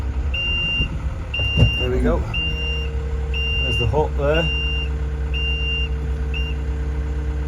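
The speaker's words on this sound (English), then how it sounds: "Sorry about the beep." A tractor's reversing alarm beeps in a steady, evenly spaced series over a low engine rumble while hitching up on a UK farm during green sunflower harvesting, with someone talking over it.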